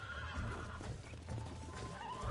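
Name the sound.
horse neighing while being broken in, Red Dead Redemption video game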